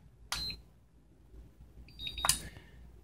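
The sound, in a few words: battery charger beep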